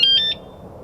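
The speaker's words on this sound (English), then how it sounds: "So my alarm has a nice remote on it." Sur-Ron X electric bike security alarm chirping three short, loud, high electronic beeps in quick succession, followed by a faint background hum.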